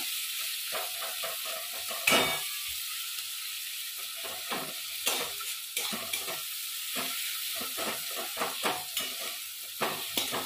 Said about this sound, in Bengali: এবার আমরা হালকা করে একটু নেড়ে নেবো।